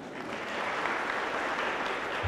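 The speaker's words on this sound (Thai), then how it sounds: "ปรบมือให้กับคุณบรรทูลหน่อยครับ" An audience at a forest conservation talk in Nan applauds, a dense, even wash of many hands clapping together, fairly quiet and steady for a couple of seconds with no speech over it.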